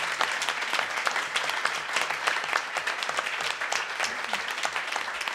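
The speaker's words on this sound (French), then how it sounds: "On peut l'applaudir quand même" At a foundation's launch evening broadcast, an audience claps steadily, producing dense, continuous applause with many crisp individual claps, close and even in level throughout.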